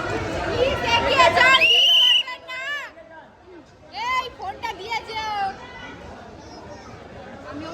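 A crowd fills the Deshapriya Park Durga Puja pandal in Kolkata. Close, high children's voices shout and chatter in bursts over a quieter murmur of people that fades and returns.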